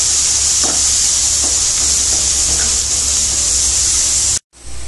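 Onions and pre-boiled carrots fry together in a pan for chow mein, a loud, close, broad hissing sizzle with faint stirring taps, holding steady before a sudden brief cut near the end.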